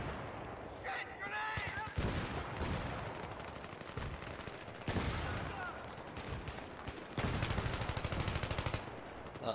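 Rapid gunfire in the shooter Battlefield 3, with sustained automatic bursts and single cracks recurring through several stretches and a brief lull between them, loud and close.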